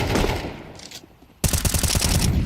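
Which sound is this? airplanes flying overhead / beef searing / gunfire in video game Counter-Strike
gunfire in video game Counter-Strike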